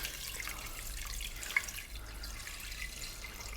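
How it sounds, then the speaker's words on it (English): Cold tap water runs into a pressure cooker in a kitchen, a soft steady trickle with a single brief bright drip partway through, no talking. "We're literally going to just put water in, cold water."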